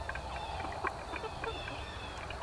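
A flock of chickens clucks softly as the dominant birds clean up their feed, scattered short calls rising over a steady low rumble of background noise.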